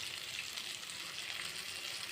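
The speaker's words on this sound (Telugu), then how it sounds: "తురుము వేసుకొని కొంచెం సేపు వేయించుకోవాలి" Grated raw mango frying in a pan with turmeric for mango pulihora gives a steady, close, even sizzling hiss throughout, with no voices.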